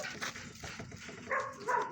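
Puppies whimper and yip in a cramped outdoor enclosure, with short high whines and soft barks, close and fairly quiet.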